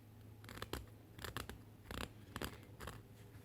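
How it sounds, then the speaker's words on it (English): A razor slices through the top layer of faux fur fabric, giving a quiet series of crisp, scratchy snipping bursts in an irregular rhythm, close up with nothing else heard. "You want to just do that top layer so you can hear the fabric as you apply pressure with the razor"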